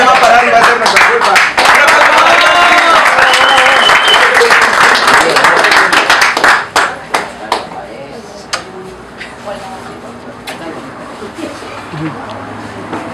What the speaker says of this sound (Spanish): un gran aplauso a la señorita Jacqueline